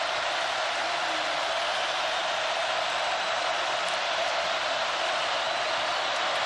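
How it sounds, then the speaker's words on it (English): A large stadium crowd at Tiger Stadium during a college football game roars as a steady, dense wash of noise, distant and unbroken throughout. "The noise is an issue from the crowd at Tiger Stadium."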